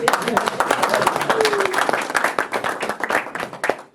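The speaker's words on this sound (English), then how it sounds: "I'll give her a round of applause" A small crowd at a gallery exhibition launch claps for the speaker's mother, a steady burst of close applause running throughout with voices talking over it.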